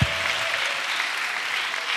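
A church congregation at a missionary retreat breaking into sustained applause, a dense, even roar of clapping that starts abruptly and continues for the full two seconds, filling the room.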